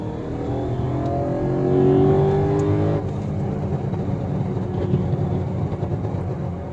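A car accelerating hard on a highway while burning off an ethanol E85 blend, its engine note rising steadily and loud, then easing into a steady cruising drone with road noise.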